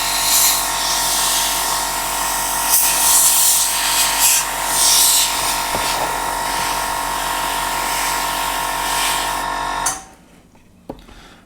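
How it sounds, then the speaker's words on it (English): A compressor-driven airbrush blows a loud, steady hiss of air over a 1/72 Airfix lifeboat model for about ten seconds, then cuts off abruptly, leaving quiet with a small click. "I'm just going to blow the whole thing over and make sure there's no dust and particles that have settled."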